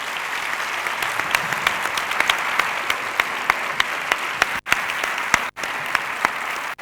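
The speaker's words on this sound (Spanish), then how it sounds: "este aplauso para todos vosotros" Sustained applause from a conference audience after a talk on emotional health with diabetes, dense steady clapping filling the room with sharper individual claps popping out and two brief dropouts near the end.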